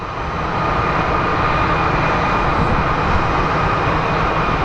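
A 19-year-old Southwest Boeing 737-700 from Albuquerque arrives at Phoenix Sky Harbor, its engines producing a loud, even, continuous roar with no speech over it.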